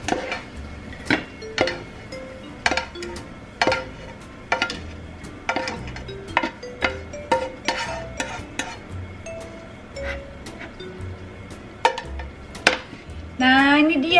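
Fried yakisoba noodles are scooped onto a plate with repeated sharp clinks and scrapes of utensils against dishes and a pan, close by in an irregular rhythm with brief pauses.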